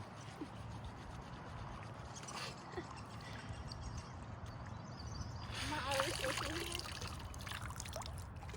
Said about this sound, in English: I'm so thankful we got a spot next to this creek.